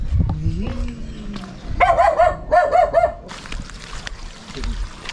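A short run of rapid, high-pitched yapping barks from a small dog nearby, at a beach home in Davao, Philippines, with some talking around it.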